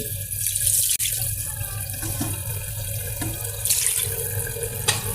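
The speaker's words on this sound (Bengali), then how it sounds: "যে মাছটা মাখানো শেষ এখন পানি দিয়ে দিচ্ছি" Running water pours steadily from a tap into a pot of fish curry being prepared, a loud close splashing stream with a brief break partway through.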